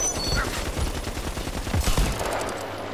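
Rapid bursts of gunfire in the video game Sniper Fury, played on Steam in the Region 30 Park level, crack out in dense volleys that swell near the middle of the clip and continue steadily throughout.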